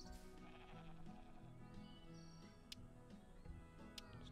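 Sheep in the farming game Hay Day bleat several times over a looping game music bed, with a few ticking interface clicks scattered through.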